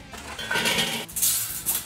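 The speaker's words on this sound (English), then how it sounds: "I'll place it in the middle of the charcoal grate and I'm going to dump the lit fuel in there." Lit charcoal briquettes tumble from a chimney into a Kettle Kone on a charcoal grill grate, a close clattering, clinking rush in two bursts with a brief pause between.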